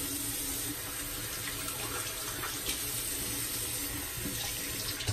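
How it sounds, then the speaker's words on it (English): Tap water running steadily into a sink while a razor is rinsed during a shave, a constant close splashing gush with no pauses. "Rinses off the razor just nicely."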